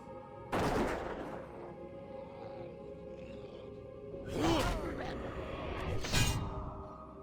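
Gunfire in World of Warcraft: a sharp shot, a long quiet stretch of game ambience, then two more heavy blasts close together near the end.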